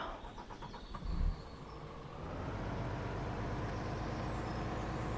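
A truck engine in the farming game Pure Farming 2018 cranks with a short, loud burst, then settles into a steady, close rumble that holds to the end.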